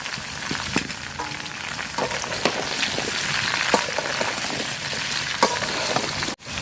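Bottle gourd sizzles and crackles in a pan with browned onions, a steady close hiss of frying with scattered pops and stirring scrapes, no voices.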